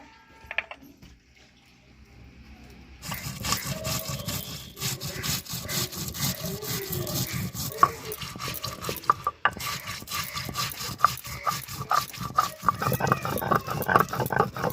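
Steady rhythmic scraping and rubbing as cumin and coriander seeds are ground together on a grinding stone, the repeated strokes continuing close up after a quiet start.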